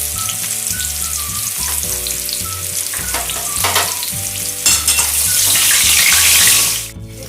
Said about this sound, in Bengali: এরকমভাবে করে সব আলুগুলোকে আমি তেলে ভেজে তুলে রাখবো